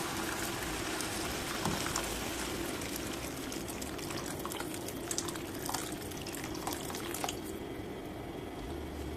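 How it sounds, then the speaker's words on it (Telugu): Water streams steadily into a pan of broad bean seed curry for several seconds, a continuous hissing splash with light dripping as the flow eases near the end. "తగినన్ని వాటర్ అయితే యాడ్ చేయండి"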